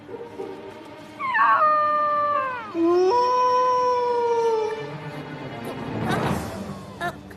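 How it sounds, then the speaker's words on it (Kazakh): A cartoon wolf cub whimpers in a long, loud, wavering whine that bends downward and then trails off, followed by a brief noisy clatter. "Қасқырдың баласы екенсің ғой."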